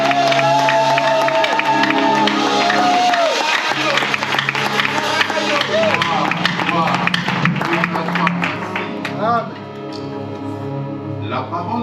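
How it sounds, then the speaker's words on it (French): A church congregation at a Sunday service applauding and cheering loudly, crowd noise and clapping mixed with voices and tonal, song-like sounds, fading a little toward the end. "Mais j'aimerais que maintenant vous acclamez pour moi."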